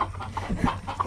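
Chickens cluck softly on a farm in a brief close burst of short, overlapping clucks over a low background rumble.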